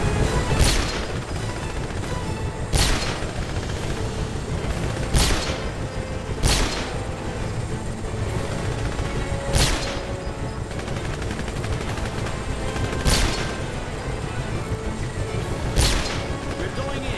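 Gunfire rings out in the 007 Legends video game during the Blofeld's Lair mission, with sharp shots cracking at irregular intervals over a dense, continuous backdrop of battle noise and rumble.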